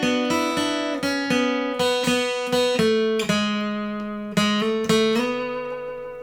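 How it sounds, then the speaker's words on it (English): Iconic lead guitar riff from a song on clean electric guitar: a steady run of plucked single notes sliding between pitches in a repeating pattern, close and clear with no talking. "there's also a really iconic lead guitar part that comes in quite near the beginning of"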